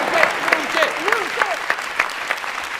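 A studio audience at a talk show claps loudly to welcome a guest, dense close applause with sharp individual claps, while a voice speaks over it with rising and falling intonation.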